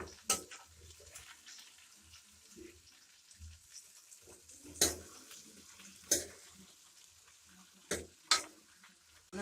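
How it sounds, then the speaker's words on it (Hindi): Okra fries in ghee over a low flame, a quiet soft sizzle broken by several sharp spoon knocks and scrapes against the pan at irregular intervals; no voices. "हम इसको करेंगे हाफ फ्राई करेंगे भिंडी को हल्की सी आंच पे।"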